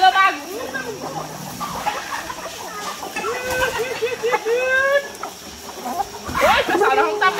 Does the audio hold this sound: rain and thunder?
no